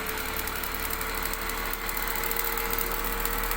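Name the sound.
electric series machine running up to speed in lab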